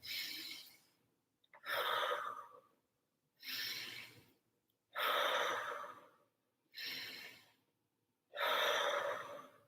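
Slow, deliberate breathing during a pelvic floor exercise: six soft, airy breaths in and out, evenly paced with short pauses between, close to the microphone and fairly quiet.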